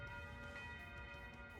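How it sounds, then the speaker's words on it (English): A resonant chiming bell effect from the Nocturne Bell in Trails of Cold Steel IV rings out with sustained, layered tones that hold steady through a short passage, with game music beneath. "Resound! Nocturne Bell!"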